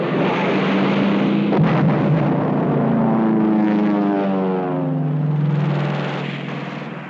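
Seventy American WWII fighter planes attack airfields in a February 1944 strike: loud, continuous propeller engine drone with shifting pitch and rapid bursts near the start, fading slightly at the end.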